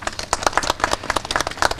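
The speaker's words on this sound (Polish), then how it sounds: "Wielkie brawa." A crowd applauds at a political party's presentation of local election candidates in Poland, with brisk, uneven clapping that keeps going at a steady, fairly close level.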